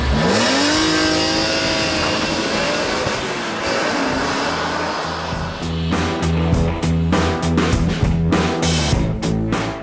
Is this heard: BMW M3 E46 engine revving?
yes